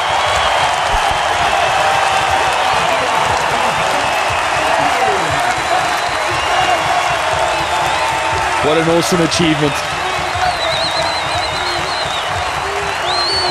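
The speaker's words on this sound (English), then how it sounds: "Hear the crowd going mad." A packed Cape Town Test crowd roars and applauds as Temba Bavuma reaches his century against England in 2015, a dense, sustained wall of cheering and clapping with a commentator's voice speaking over it.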